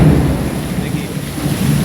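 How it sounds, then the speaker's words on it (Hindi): Loud, close thunder rumbles through heavy rain in Raipur, Chhattisgarh, a deep rolling boom over the steady hiss of the downpour. "बादल की आवाज़ सुन रहे हैं कितनी तेज़, जैसा कि यहीं आसपास कोई बम फोड़ रहा है जैसा।"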